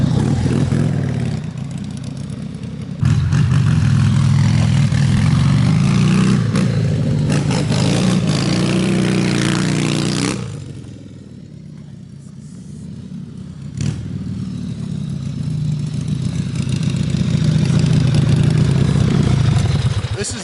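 1979 Harley-Davidson XR1000 street scrambler engine revving loud and close, throttle rising and holding in long surges, dropping away briefly mid-way before climbing again, with a voice speaking at points.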